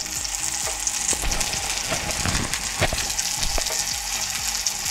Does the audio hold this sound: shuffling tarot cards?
no